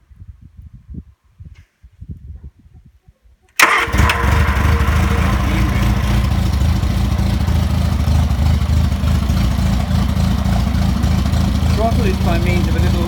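A Morris Marina 1.3 engine mounted in a test rig cranks after a few seconds of quiet, fires and settles into a loud, steady running drone that carries on to the end, with a voice briefly heard before it starts.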